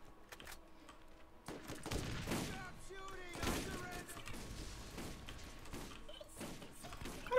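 Gunfire rattles through a Borderlands game scene in scattered bursts and thuds of uneven loudness. Voices and in-game chatter run between and under the shots.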